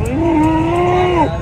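Close, loud, drawn-out bleat from a large goat at a crowded livestock market in Amritsar, a single sustained call over a constant background of market noise.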